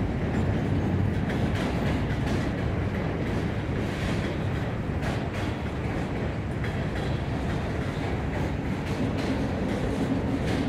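A Norfolk Southern freight train rolls past steadily with a CSX gondola in the consist, a continuous loud rumble and wheel clatter that holds at a constant level with no voices.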